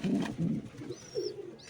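Pigeons in a loft with their young, giving low throaty coos in short bursts close by, with a thin high chirp or squeak over the later part.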